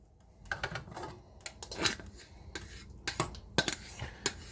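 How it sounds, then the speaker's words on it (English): Cooked hamburger meat and onion tipped into a soup pot, with a spoon or pan scraping and clicking against the metal in a quick, irregular run of sharp knocks and scrapes, close and fairly quiet. "I'm just going to dump that burger and onion right in there"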